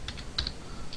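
Computer keyboard typing: a few light, quick keystrokes in a short, uneven burst, faint and close.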